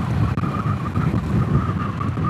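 A Moto Morini X-Cape motorcycle engine hums steadily under wind rush during an on- and off-road test ride, with the drone holding fairly even throughout.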